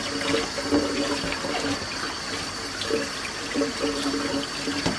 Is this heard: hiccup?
no